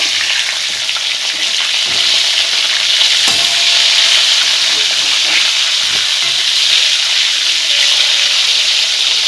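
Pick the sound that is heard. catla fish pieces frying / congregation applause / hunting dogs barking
catla fish pieces frying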